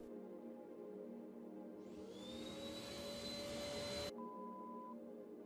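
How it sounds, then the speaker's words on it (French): Vacuum-like suction of a block-collecting glove in the video game Creativerse, a sudden loud whooshing roar with a rising whine that holds for about two seconds, then cuts off sharply, leaving a soft tone. "On dirait vraiment un aspirateur sérieux."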